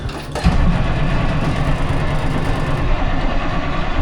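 A movie car's engine running steadily after starting, a loud continuous rumble close by that holds an even level throughout with no talking.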